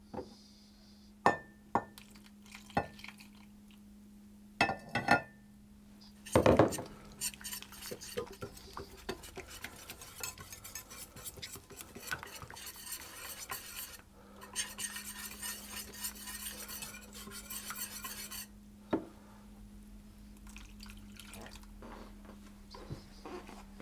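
Tangzhong flour paste being stirred while it heats, a utensil scraping and clinking against the pot in irregular bursts, with louder sharp knocks early on and a soft sizzle beneath.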